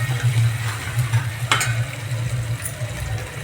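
Spices drop into a hot pan of oil with onion and coriander for Maharashtrian misal, giving a steady close sizzle with stirring scrapes and one brief sharper crackle.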